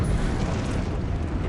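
A Confringo fire spell blasting in the video game Hogwarts Legacy, a loud sustained booming burst with heavy low rumble that fills the whole moment without easing off.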